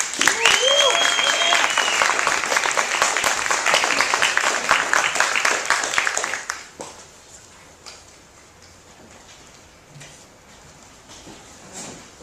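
Loud, dense applause from an audience at a Harlem celebration-of-life gathering welcoming a speaker, sustained for about six seconds before dropping abruptly to quiet room murmur with a few scattered claps.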